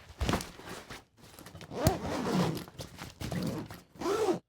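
A zipper closes the main compartment of a Compagnon Adapt 25L backpack, pulled close by in several uneven raspy strokes with brief pauses between them, and no talking.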